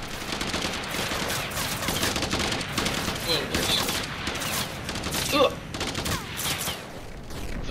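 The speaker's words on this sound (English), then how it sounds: "we're all firing homing rockets" Homing rockets firing in a flight combat video game, a dense continuous barrage of launches and blasts, with a louder burst near the end and voices talking over it.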